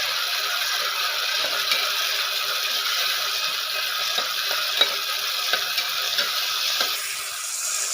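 Tomatoes sautéing in a pan for vegetable kuruma, giving a steady, even sizzle and hiss throughout with a few faint scraping ticks from stirring, close and continuous with no talking.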